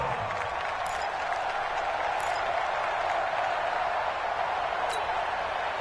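A large crowd roars and applauds steadily at a football video game as a big third down approaches, a dense, constant wash of noise with a few faint whistles on top.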